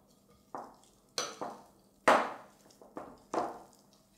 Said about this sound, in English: then you just need to mix it all together